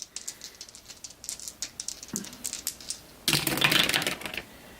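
Two dice for a Star Wars: Battle of Hoth board game, with light clicking taps followed by a short, close rattling burst as the dice are shaken and rolled on a table.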